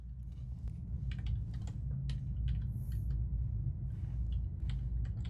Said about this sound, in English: Let's just type it out